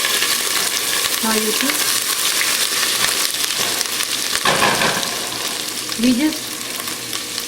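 Ingredients for a spicy Indian chicken curry sizzle steadily in a hot pan with a dense, crackling hiss, as a spoon stirs them now and then and a voice speaks briefly over the frying.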